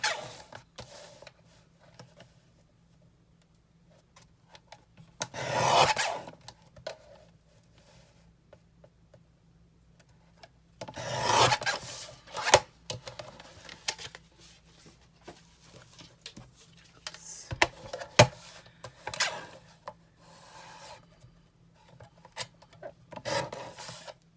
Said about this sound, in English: Now I'm going to cut it to fit my image.